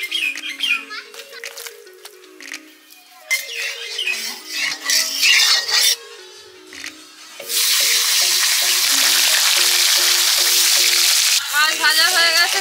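Fish coated in salt and turmeric frying in mustard oil in a wok, a steady loud sizzle filling the second half after earlier stretches of speech and children's voices in the background.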